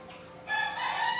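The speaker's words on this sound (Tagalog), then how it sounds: "Nagtugtugaok ng manok." A rooster crows out on farmland, a short, faint call rising over quiet background hum, heard alone without talk.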